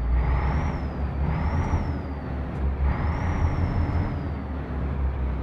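A truck engine in a trucking video game holds steady at its rev limit, a constant droning hum with a high whine that rises and falls slightly in repeating waves, no voices.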